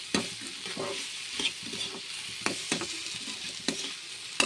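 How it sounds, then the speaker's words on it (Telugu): Ash gourd pieces fry in a pan with a constant sizzling hiss, punctuated by several sharp scraping stirs of a spoon against the pan at irregular intervals. "ఈ ముక్కలు అయితే ఇలా వేగుతున్నాయి."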